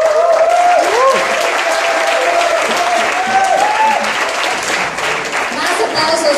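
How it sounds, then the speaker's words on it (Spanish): An audience at a panel discussion in Colima breaks into loud, sustained applause, a dense wash of clapping close and steady throughout, with voices mixed in underneath. "aplausos de la porra"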